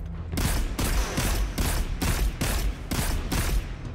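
Gunfire in Destiny 2 lands as a series of about eight evenly spaced, loud, heavy shots, each one a broad burst with a short decay.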